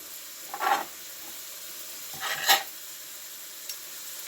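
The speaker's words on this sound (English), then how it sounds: "My rice is cooking." Rice cooking in a pot on a lowered heat gives a quiet, steady simmering hiss, broken by two short bursts of sizzling or stirring and a faint later tick, with no talk.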